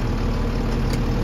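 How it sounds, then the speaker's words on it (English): A Class B truck's engine idles steadily in neutral after a tap of the accelerator during an air brake test, a continuous low rumble at close range with no talk. "Now I'm going to tap the accelerator."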